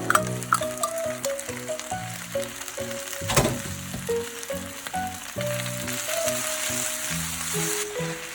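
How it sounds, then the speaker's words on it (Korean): Fish cake stir-fried in a pan with onion, chopped chili, chili flakes and chili oil, a close, steady sizzle with scraping and stirring clatter throughout. "이제 양파가 완전히 익을 때까지만 볶고"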